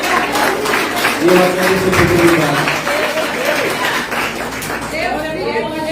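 A church congregation applauds the Lord during an evening service, a steady wash of clapping running under a preacher's speaking voice, fairly loud and close throughout.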